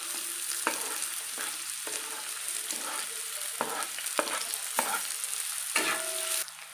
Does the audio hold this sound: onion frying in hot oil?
yes